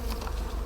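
Honey bees buzz after a bag is ripped open at a hive in winter, a dense, steady swarm drone filling the brief moment without any talk.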